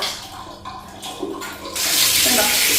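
Water rushes through a bathroom toilet flush tank pipe, starting as a lower gurgle and swelling into a loud, steady, hissing flush for the last second.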